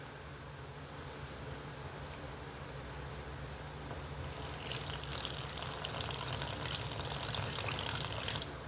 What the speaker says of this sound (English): And then we're gonna start adding our water